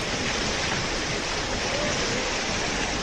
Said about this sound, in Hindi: पानी छोड़े जाने की वजह से गोदावरी नदी में उफान आ गया।